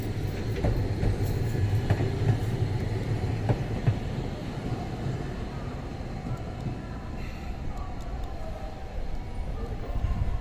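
A Tokyo Toden Arakawa Line tram rumbles past with low mechanical droning and faint clatter, steady throughout, with street noise around it.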